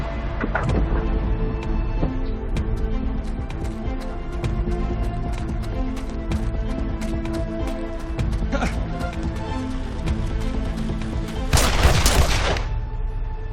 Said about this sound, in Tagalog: Putok ng baril yun, ha?